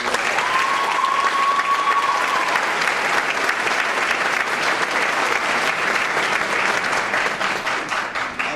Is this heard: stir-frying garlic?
no